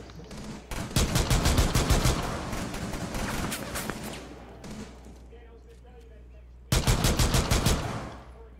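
Rapid automatic gunfire in Rainbow Six Siege, two loud bursts of close machine-gun fire separated by a quieter stretch of fading echo and softer noise.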